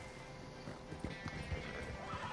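Horse galloping in a video game, a fast, faint clip-clop of hooves running steadily under low background game noise.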